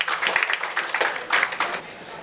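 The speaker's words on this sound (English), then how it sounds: "So guys, round of applause for Akash." Audience clapping at an event, uneven claps under a voice.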